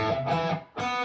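A heavily distorted high-gain electric guitar on the neck pickup plays thick sustained chords, loud and close, with a short gap before the next chord rings out.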